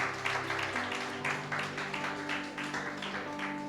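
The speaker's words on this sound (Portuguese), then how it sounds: "vamos dar uma salva de palmas para eles" A church congregation applauds the children's ministry team during a service, steady rhythmic clapping that holds throughout at moderate loudness with a sustained musical tone underneath.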